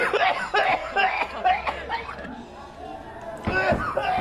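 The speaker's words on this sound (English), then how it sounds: "God, that cough was horrific." A man coughs harshly in a quiet room in a tense drama scene, with short raspy bursts amid murmuring voices and a slight chuckle, then more coughing near the end.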